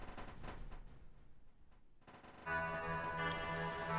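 Machine gunner towers fire in rapid bursts in the tower-defense game Role of Hex, a dense crackle of gunfire under a bed of game music that swells louder halfway through.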